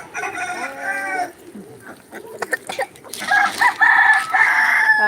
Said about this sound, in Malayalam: പൂവൻകോഴി പൂവൻകോഴി